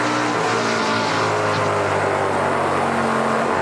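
NASCAR Pinty's Series race cars at speed on the New Hampshire oval, a loud continuous engine roar with layered motors blending into a dense, steady drone and no talking.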